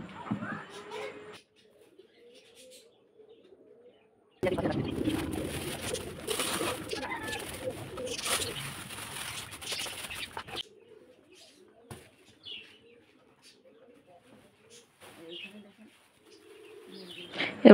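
Pigeons and other birds coo and chirp around feeding time, with a loud burst of rustling and wing flapping in the middle and a person talking quietly at times.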